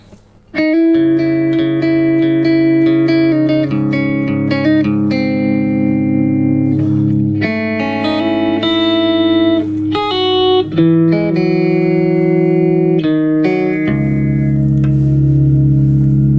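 A clean electric guitar plays through a BOSS eBand JS-10 with no effects, picking bright chords and single notes in a loud, close, continuous phrase that rings out at the end.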